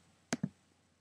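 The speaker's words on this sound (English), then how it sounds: "To choose the coupon, I'll click redeem." Two quick, crisp computer mouse clicks land close together as a redeem button is pressed, sharp and close against near silence.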